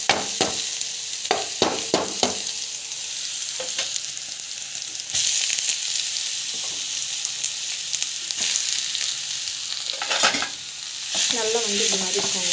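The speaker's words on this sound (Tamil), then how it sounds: "கடலைப்பருப்பு நல்லா வந்து வதக்கிடுங்க." Chana dal with small onions and garlic sautés in a pan, frying with a constant loud sizzle while a spatula scrapes and taps repeatedly, up close with no talking.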